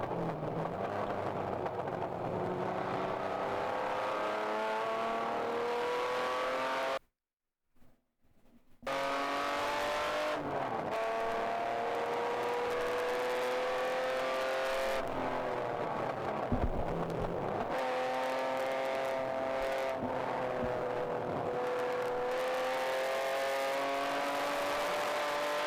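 A race car at Gingerman Raceway during an endurance race, engine revving hard through repeated rising and falling pitch sweeps, with a brief drop-out partway through before the loud revving resumes.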